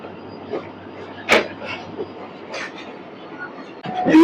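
The Hazara Express, a Pakistani passenger train out of Karachi, rolls along with a low steady rumble, a few knocks and clanks from the carriages and a louder burst of rattling near the end.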